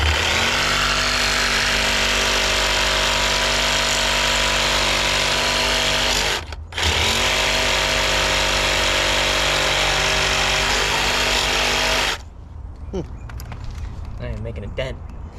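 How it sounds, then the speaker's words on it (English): A cutting torch slices through metal on a CAT 259D compact track loader during repairs: a loud, steady, close-up roaring hiss with a brief break near the middle, then a quieter stretch with voices and clatter. "I have to cut that with a torch."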